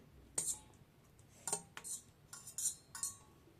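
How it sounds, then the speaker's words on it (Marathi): Cooked pumpkin is mashed in a bowl, heard as a handful of light, sharp clinks and taps of a utensil against the dish, scattered irregularly over quiet background. "आपल्याला हा जो भोपळा आहे तो मॅश करून घ्यायचा व्यवस्थित"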